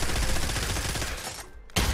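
Rapid automatic gunfire in the Pavlov VR shooter game on PSVR2, a dense close burst of shots lasting over a second, a brief pause, then the shots resume.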